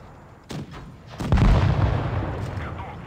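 Tank cannon fire in World of Tanks Blitz, a T-34 battle: a sharp shot followed by a heavy booming blast that rumbles and decays, with a voice faintly under it.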